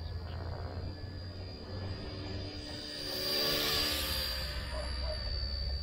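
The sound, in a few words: XK K160 RC helicopter brushless motor flying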